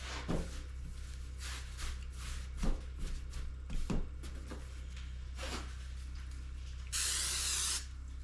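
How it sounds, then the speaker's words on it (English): A spray bottle mists the insides of bread pans in a homestead kitchen, a bright hissing burst of about a second standing out near the end, with quieter handling knocks and clatter before it. "I spray the insides of my pans lightly."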